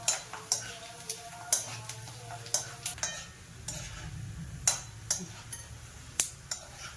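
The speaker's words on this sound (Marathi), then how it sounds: "कांदा चांगला तळून घ्यायचा आहे." Onion frying in a pan while being stirred for a Maharashtrian kala masala: a soft, steady sizzle runs throughout, punctuated by regular sharp clinks of a spoon scraping and knocking the pan, close and fairly quiet.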